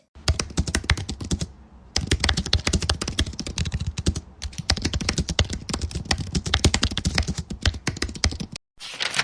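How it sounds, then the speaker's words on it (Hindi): Rapid, steady typing on a computer keyboard during Excel data entry, close and clear, with short pauses between bursts of keystrokes and no talking. "मैं टाइप कर लेता हूँ।"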